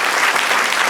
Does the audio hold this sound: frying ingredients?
no